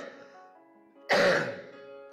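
After a faint tonal hum, a single rough, close throat clearing rasps out, short and loud, then fades away.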